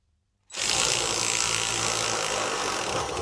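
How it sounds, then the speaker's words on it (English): A spanner works to tighten a QMax cutter, making a dense, steady mechanical ratcheting whir that starts abruptly after a brief silence and holds loud and even throughout. "I'm going to put the spanner on there and then we're going to do this up"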